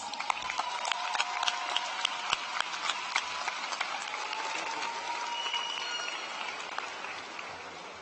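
Crowd applause at a 2018 high school graduation ceremony in a large hall, steady broadband clapping with scattered sharp individual claps and faint cheers, sustained throughout at moderate level.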